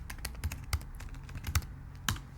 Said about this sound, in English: I can type circle up here